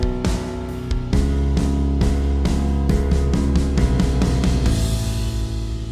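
A full-band song ending with a deep sub bass and a swelling cymbal, loud sustained chords hit several times before the cymbal wash rises and fades out.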